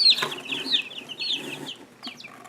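Light Brahma chicks give high, rapid peeping chirps in quick bursts, close by and fairly faint, with a few scattered pauses.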